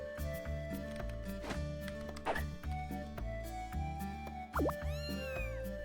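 A cartoon cat meows in the Little Busters visual novel during a baseball minigame, its short bright cries riding over steady looping game music with bouncy plops and a rising boing near the end.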